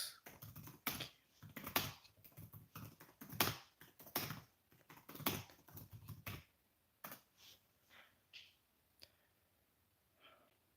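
Someone types on a computer keyboard in quick bursts of sharp, close clicks, with dense runs of keystrokes separated by short pauses, then sparser taps toward the end.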